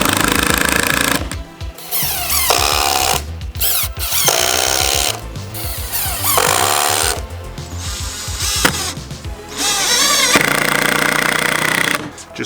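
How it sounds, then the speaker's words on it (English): A power drill drives screws into cedar fence pickets in loud, close bursts of whirring separated by short pauses, with a higher ratcheting whine as each screw seats. "Just finishing off putting 2 screws into each picket"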